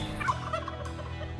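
A wild turkey in South Dakota gobbles, a rapid rattling burst of calls that rises and fades over about a second, fairly close and standing alone over a steady low background rumble.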